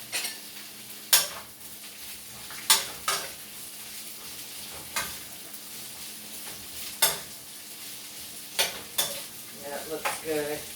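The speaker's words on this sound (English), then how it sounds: "So I'm going to put my vegetables in here" Vegetables sizzle and sweat in a hot wok for a potato soup, a steady bright frying hiss punctuated by repeated clanks of a utensil stirring against the pan.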